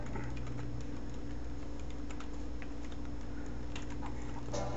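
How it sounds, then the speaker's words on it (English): Steady, continuous typing on a computer keyboard, heard during a stealth playthrough of the game GoldenEye 007, with fast irregular key clicks over a constant low hum and no talk. "Keyboard."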